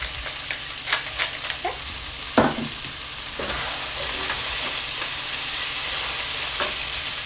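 Food sizzles in a hot pan with salt and pepper added, starting with a few utensil clicks and scrapes, then settling into a steady, loud, close frying hiss.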